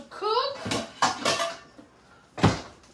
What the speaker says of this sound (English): I'm gonna cover my pots